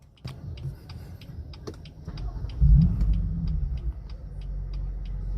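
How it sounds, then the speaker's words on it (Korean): A BMW M4 F83 engine starts with a deep low rumble that swells about halfway through, then settles into a steady, loud idle. Faint, regular ticking runs throughout. "이제는 본격적으로 이 BMW M4의 시동을 한번 걸어보겠습니다. 시동 한번 들어보시죠."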